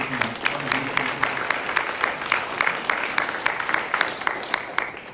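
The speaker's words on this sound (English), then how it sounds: "could you give yourselves a big round of applause" Medical staff applaud at an announcement event for a cancer research grant, a moderate round of clapping with distinct individual claps, steady throughout before tapering slightly at the end.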